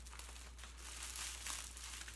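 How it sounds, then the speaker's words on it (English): A heavily packed plant parcel is unwrapped with close, continuous crinkling and crumpling of packing material, swelling slightly louder midway, with no talking. "it's annoying to get open because there's too much packing"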